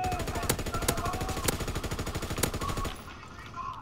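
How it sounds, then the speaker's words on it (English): MG15 machine gun in the Call of Duty WWII video game fires sustained rapid bursts, loud and close, with a few sharper shots standing out before the firing stops near the end. "I'm using my MG15 also."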